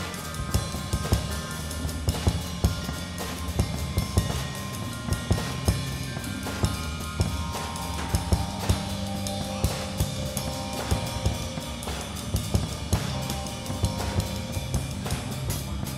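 Studio session jam from a recording at the Record Plant, a dense full-band instrumental passage with steady drum hits and sustained guitar and keyboard tones throughout.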